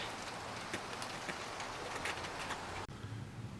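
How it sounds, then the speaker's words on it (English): Steady rain patters down on a surface during work on a GM 454 P30 motorhome, a soft continuous hiss with scattered drops, fairly quiet. "Just started raining."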